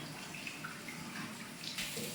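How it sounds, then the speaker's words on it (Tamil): Water poured from a vessel into chana potato masala in a pan, a steady soft splashing stream lasting a couple of seconds with a brighter burst near the end, close and moderately quiet. "பாதி மசாலாவை மாற்றிட்டு அதுக்கப்புறம் கொஞ்சம் கூட தண்ணி விட்டுறோம்"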